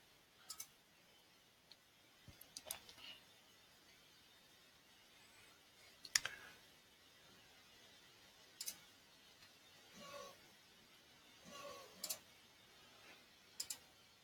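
Faint, sparse computer mouse clicks, single and paired, spaced irregularly across a quiet room with no talk.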